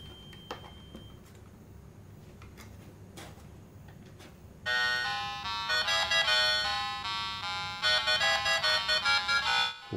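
A repaired Atari Lynx II handheld console plays a bright electronic chiptune tune that starts suddenly about halfway through. Before the tune come faint clicks and light handling over a quiet hum.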